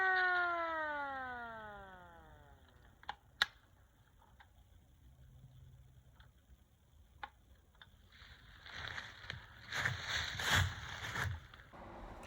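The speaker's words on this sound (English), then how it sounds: "I've got my World War II hand-cranked air raid siren, which is to use to simulate the quote-unquote Bigfoot call" A World War II hand-cranked air raid siren winds down from a loud wail to a fading groan outdoors in wooded Connecticut hills, followed by sparse sharp knocks and a burst of rustling, handling noise nearby.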